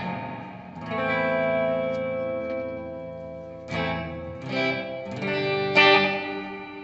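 Electric guitar played through a BOSS delay pedal, sustained chords ringing with repeating echoes and slapback, several strummed phrases with short gaps, steady and close.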